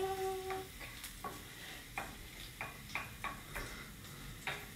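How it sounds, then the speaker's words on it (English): Garlic sautés over medium heat with a faint soft sizzle, while a utensil stirs and taps the pan in a loose series of light clicks, close and quiet. "saute the garlic"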